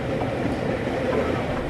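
A passenger train on a scenic rail journey rolls along with a continuous low rumble and hum heard from inside the carriage, steady and fairly loud.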